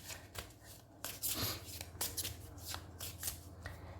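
A deck of tarot cards being shuffled by hand, with soft riffling and flicking at close range, repeating in quick bursts over a quiet background.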